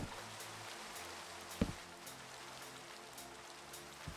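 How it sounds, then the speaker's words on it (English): Steady rain falls in a video game, a constant soft hiss broken by a brief, sharp thump and a fainter knock later on. "And it's raining. Of course it's raining."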